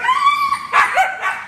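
Young dogs bark and yip sharply in short bursts during protection training, close and loud, with a whining tone between barks.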